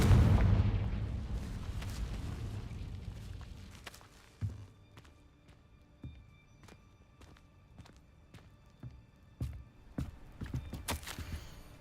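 A Confringo blasting spell in Hogwarts Legacy bursts into a loud, booming explosion that rumbles and decays over several seconds, followed by scattered thuds and footsteps.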